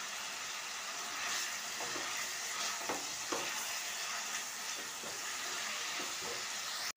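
Chicken keema with ginger and garlic frying hard in a pan, a loud, steady sizzle filling the whole stretch with scattered scraping stirs, no voices.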